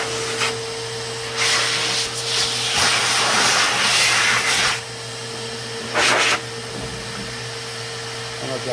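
A Craftsman 5-gallon 4.0 HP wet/dry vacuum blows air with a steady loud whine and motor hum, its rushing airflow swelling in bursts and dropping back between them.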